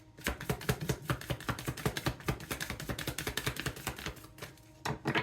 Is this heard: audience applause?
no